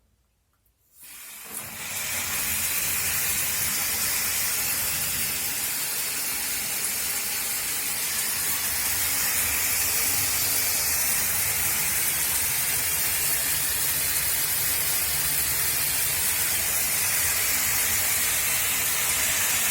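A Grohe shower head sprays water in its oxygenated rain mode, a steady loud hiss that starts abruptly after a second of quiet and runs evenly to the end with no voices.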